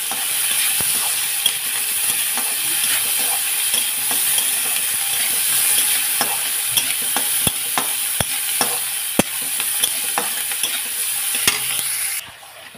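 Onion with a little salt fries in a pan, giving a continuous hiss with scattered scraping and stirring clicks from a utensil, close and fairly loud.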